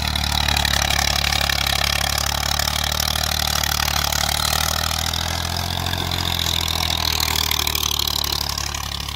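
A Massey 385 or Fiat tractor engine runs steadily and loudly throughout, a close, continuous low rumble with no pauses and no talk.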